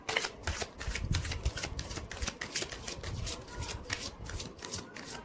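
Tarot cards being shuffled by hand, a quick run of crisp riffling flicks and soft slaps, close and fairly quiet, with no talking.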